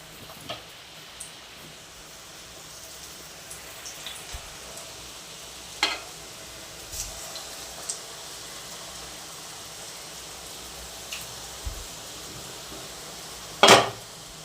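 Suji pakora frying in oil in a pan over a low gas flame, a soft steady sizzle with scattered clinks of utensils and a louder clatter near the end.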